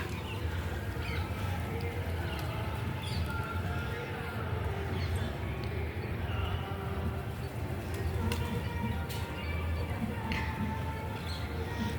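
A flock of pigeons coos on a rooftop terrace, a steady low murmuring chorus that runs throughout, with faint outdoor background noise and occasional small flutters.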